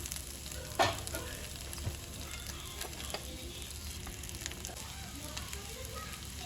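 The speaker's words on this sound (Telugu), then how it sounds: "దీన్ని మంచిగా ఫ్రై చేసుకుందాం." Chicken frying in a pan gives a soft, steady sizzle with occasional light clinks and stirring scrapes, one sharper knock early on, all faint and close.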